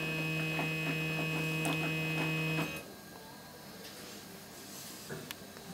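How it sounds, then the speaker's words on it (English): A CNC machine drives its axes to the homing reference position, a steady motor whine and hum that holds for a few seconds and then cuts off, leaving a quiet room. "now I can just hit the homing reference home, and then it will drive to this location."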